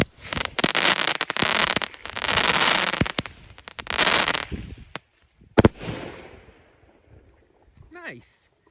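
King Pin Mines and Double Lantern Salute fireworks let off loud crackling bursts for several seconds, then a few separate sharp bangs and a final boom as the noise fades to quiet; a voice is heard at the end.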